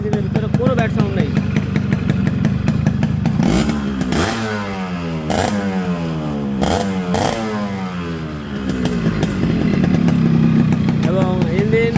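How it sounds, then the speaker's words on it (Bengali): Yamaha RXS 115 motorcycle engine running close by, a steady clattery two-stroke putter with a few brief throttle blips in the middle, under someone talking. "ইঞ্জিনের ভিতরে কোনো ব্যাড সাউন্ড নেই"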